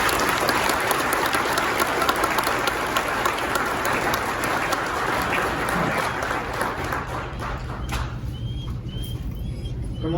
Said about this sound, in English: A round of applause for Captain Gonzalez.